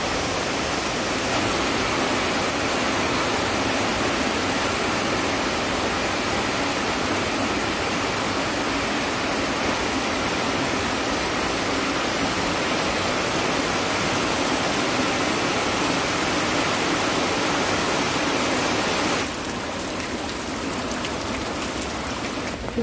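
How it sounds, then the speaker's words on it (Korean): Heavy rain pours down around a rural dugout shelter in a downpour, a dense, loud, unbroken hiss that holds steady for over twenty seconds, easing slightly near the end. "비가 너무 많이 와서요."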